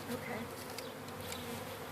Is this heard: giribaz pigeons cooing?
no